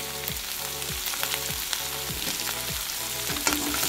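Moringa flowers sautéing in a pan with cumin powder, turmeric, salt and pepper powder give a steady, close sizzle with occasional stirring strokes.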